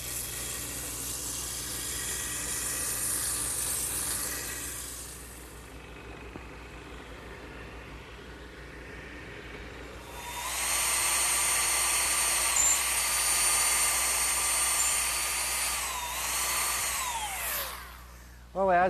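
A drum sander smooths an angled wooden cut worked freehand against the drum, a loud whining grind in two bursts, first for about five seconds and then again after a quieter gap, under a steady motor hum.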